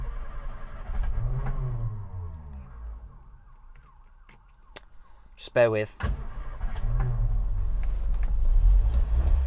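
A 1969 Ford Cortina Mk2 1600E engine cranks briefly, catches and settles into a steady running drone, with someone talking before and over it.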